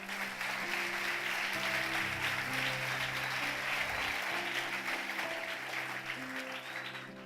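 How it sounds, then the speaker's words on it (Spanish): Church congregation applauding for Jesus during a sermon, a steady wash of many hands clapping that swells and holds for several seconds, with faint organ or keyboard tones sustained underneath. "Denle un aplauso a Jesús"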